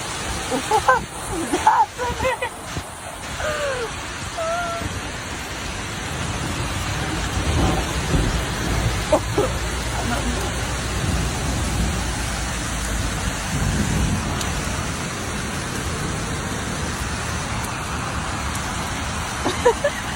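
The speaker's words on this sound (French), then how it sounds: "de la pluie, de la neige et des éclairs en même temps" Heavy rain pours steadily during a storm in Egypt, with rumbling thunder and a few sharp disturbances up close near the start, a dense roaring wash continuing throughout.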